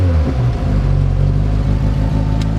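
A Triumph TR4 classic car engine, just started with the choke on, runs loud and close in a steady low rumble with a rhythmic pulsing idle.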